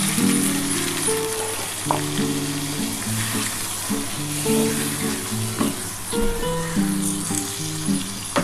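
Spiced water poured into mutton curry in a hot pan sets off a loud, steady sizzle and bubbling, with occasional clinks of a utensil stirring close by throughout.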